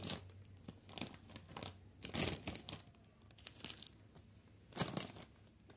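Plastic wrapping crinkling around a bougainvillea cutting, close and fairly quiet, in irregular bursts of rustling and crunching separated by short pauses.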